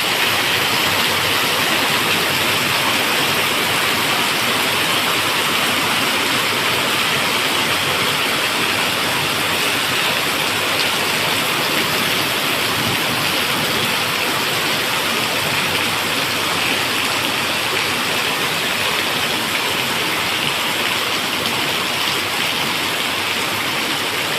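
Heavy rain pours down steadily outdoors, a dense, loud, unbroken hiss with no voices heard.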